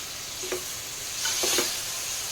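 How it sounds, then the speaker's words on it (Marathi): Potatoes and peas with black masala and peanuts are stirred into masala rice in a pan. A few soft scraping strokes of the spoon rise over a constant low sizzle. "आणि शेंगदाणे टाकून घेते व्यवस्थित मिक्स करून घ्यायचं आहे"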